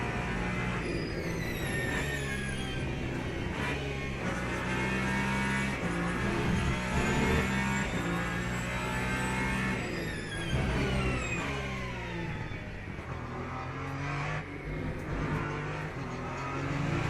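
LMP2 prototype race car in Le Mans Ultimate lapping a track: a loud, steady engine drone with rising and falling revs through gear shifts and corners, running continuously throughout with no talk.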